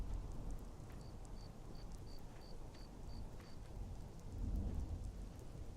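Steady rain in the video game Skyrim hisses and patters over a low rumble, with a short run of faint evenly spaced beeps partway through; no voices.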